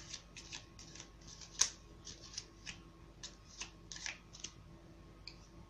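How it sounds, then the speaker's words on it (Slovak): A deck of playing cards being shuffled by hand for a magic trick, heard as a run of quiet, crisp riffling snaps and ticks at an uneven rhythm over a faint steady hum. "Ja zamiešam karty."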